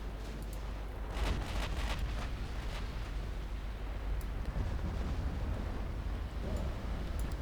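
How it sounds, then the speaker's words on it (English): Torpedoes strike a light cruiser during a naval battle in the warship game Ultimate Admiral Dreadnoughts, set in 1939. The hits land as a heavy, continuous roaring rumble with deep booms, loud and unbroken, with no voices. "There we go, 2 torpedo hits"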